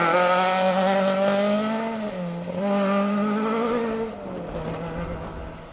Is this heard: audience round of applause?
no